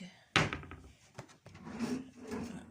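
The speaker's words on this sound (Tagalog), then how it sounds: "Drawer." A wooden drawer is opened and closed indoors, with a sharp knock, a brief bump and then a sliding rub, heard close and fairly clearly.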